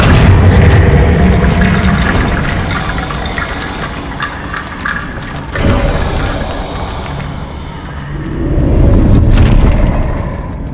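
A Confringo fire spell explodes in Hogwarts Legacy, a dense booming blast that rumbles on for several seconds before a second heavy burst swells near the end, with mechanical clatter underneath.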